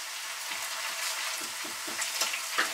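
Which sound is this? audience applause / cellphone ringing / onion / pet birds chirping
onion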